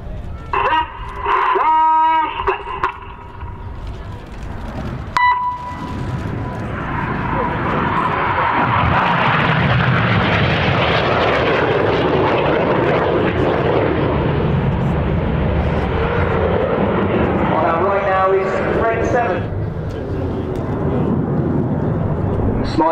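Red Arrows jets in a flying display at RIAT, with the synchro pair diving low toward the runway at over 400 mph; a loud, sustained jet roar swells and fills most of the clip, with a commentator's voice heard early on.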